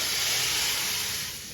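Dal poured into a hot pan for spicy dal baati, producing a loud, close hissing sizzle like escaping steam that stays strong and then eases slightly at the end.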